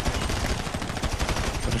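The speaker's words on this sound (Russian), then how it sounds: "По-моему, все-таки с двух выстрелов попадает по вертолету." Rapid gunfire in GTA Online aimed at a helicopter, a dense run of sharp, closely spaced shots that holds steady and loud for the whole burst.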